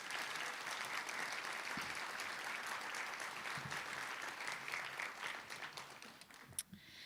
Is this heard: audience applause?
yes